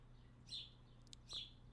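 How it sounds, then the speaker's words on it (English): Sparrows outside a window chirping in two short, high bursts about a second apart, faint and distant over a steady low hum. "There are very loud sparrows outside of my window."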